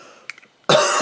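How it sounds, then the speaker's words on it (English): A single short, loud cough from a person with a cold, close to the listener, preceded by a few faint small sounds. "I'm gonna cough a little bit"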